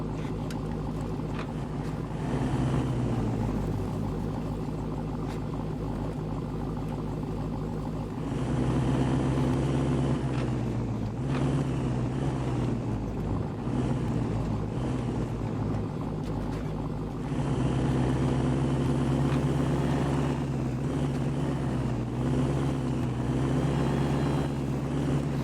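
A Jeep Gladiator in the Snowrunner video game cruises a trail, its engine a steady low droning rumble that rises and falls in intensity in several stretches, continuous and fairly even throughout.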